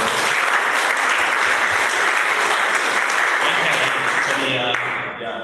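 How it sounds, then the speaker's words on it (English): A room of Rotary club members at a weekly meeting breaks into a round of applause, dense steady clapping carried at full strength for about five seconds before tapering, with a voice briefly heard near the end. "so we can give her a round of applause."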